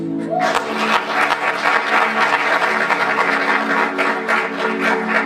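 Sustained applause from an audience at a book launch, steady and dense throughout, with a voice and background tones faintly underneath.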